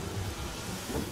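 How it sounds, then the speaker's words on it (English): Rain and thunder from a stormy scene in the video game Divinity: Original Sin Enhanced Edition: a quiet, steady wash of rainfall with a low rumbling undertone, heard alone. "Rain, everybody's getting some rain."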